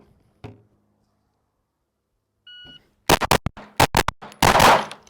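A short timer beep, then a rapid string of loud, close pistol shots at a defensive shooting range, followed by a second burst of sharp cracks.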